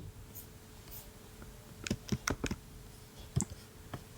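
Faint clicks and taps on a computer keyboard: a short cluster of quick keystrokes in the middle, then a couple of single clicks, over a quiet room hum with no talking.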